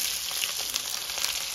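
Onions frying in oil in a pan alongside dried chillies, cinnamon, cloves, cardamom and five-spice, a close, steady, loud crackling sizzle with no talking.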